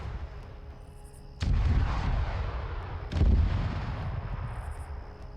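Two heavy artillery shots ring out from a vehicle-mounted gun in the Arma video game, each a deep booming blast followed by a rolling rumble, about two seconds apart and loud against a quiet background.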